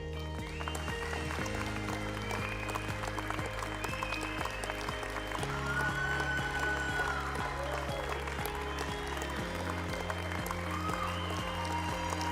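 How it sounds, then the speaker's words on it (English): At a 2024 AIB graduation ceremony, a crowd claps steadily under loud sustained music, with the applause running continuously beneath the tones. "Give him a big round of applause."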